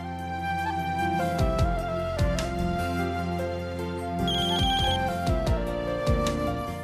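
A steady electronic ringtone melody repeats in a looping tune, moderately loud with no one talking over it.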